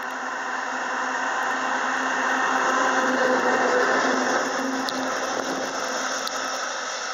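A light engine locomotive at Gosford in Australia drones steadily with a constant mechanical hum, heard from nearby without any talk.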